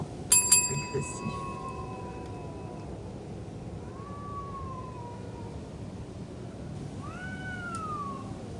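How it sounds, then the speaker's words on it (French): A cat meowing aggressively lets out several drawn-out, wavering meows, spaced apart over a low background hiss, with a bright ringing tone at the start. "Sous fond de miaulement agressif."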